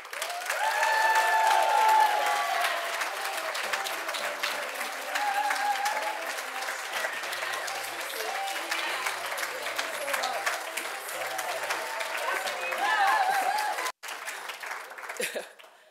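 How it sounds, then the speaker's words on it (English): A room of guests at the Dress for Success Greater London Power of Women Awards 2024 applauds an award winner, Anita Asante, in a loud, sustained round that fades toward the end, with voices and murmurs mixed in. "Please join me in a resounding applause for Anita Asante."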